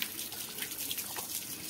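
Water from a hose pipe pours over a buffalo in a village, a steady close splashing rush of water without pause.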